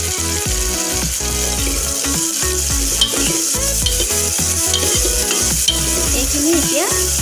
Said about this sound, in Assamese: এইখিনি এতিয়া 2 মিনিটমান সময় ভালদৰে ভাজিব লাগিব।